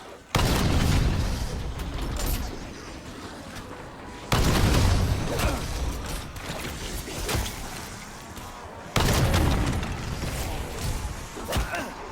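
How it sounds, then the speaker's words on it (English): Launcher blasts in Call of Duty Black Ops 7 survival gameplay on the Exit 115 map: three heavy booming explosions spaced about four seconds apart, each followed by a long rumbling, crackling decay. "A little bit of fun with the launcher."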